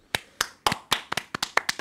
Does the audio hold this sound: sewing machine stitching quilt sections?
no